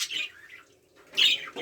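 Pet canaries chirp and squawk in short bursts, close by, with a quiet gap between calls and no voices.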